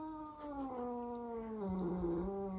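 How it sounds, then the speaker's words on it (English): A tomcat named Loki growls low and continuously at a new kitten indoors, a steady, droning, tonal growl that wavers and dips in pitch, close and fairly quiet, with no one talking. "If you hear any growling, it is because Loki is not happy that the kitten is here."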